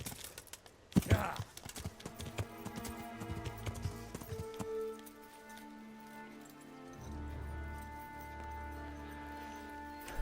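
Horse hooves clip-clopping in the Kingdom Come Deliverance video game, with a sharp impact near the start, then a quick run of rhythmic hoof beats that gives way to a calmer background with music.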